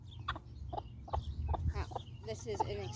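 An angry, broody American Bresse hen utters a series of low, irregular clucks and grumbling calls at close range, several short bursts over a few seconds against a faint background hum.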